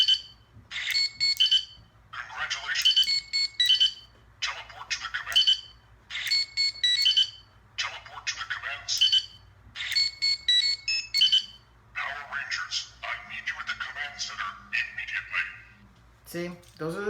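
Electronic sound effects and voice clips from a Power Rangers Legacy Communicator toy: bursts of bright, chirping tones arrive in repeated short phrases with brief gaps, over a steady low hum, fairly close.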